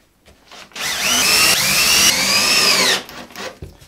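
A power drill whines up to speed and runs steadily for about two seconds as it drives a screw into wood, then stops. It is close and loud.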